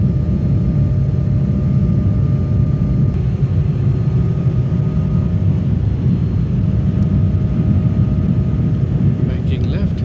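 Steady, loud broadband cabin roar from an Embraer jet airliner in flight as it banks toward Singapore, a constant engine and airflow rumble that does not change in level.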